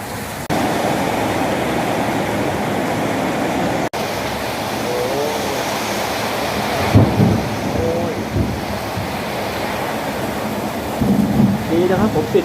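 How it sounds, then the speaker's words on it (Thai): A violent thunderstorm in Wichian Buri, Phetchabun, Thailand, brings heavy rain and hail: a loud, continuous roar of downpour, with deep thunder rumbles rolling through midway and near the end. "ไม่ไหวครับลูกเห็บลงครับ"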